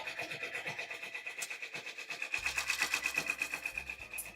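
An embroidery machine stitches an elephant face profile with a steady, rapid, evenly pulsing mechanical chatter, close and moderately quiet, joined by a low hum partway through.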